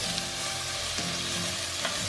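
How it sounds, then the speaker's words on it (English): Garlic and onions sweating in a frying pan give a steady, close sizzle with soft crackles throughout, alone and without talk. "you can see that the garlic and onions are nice and"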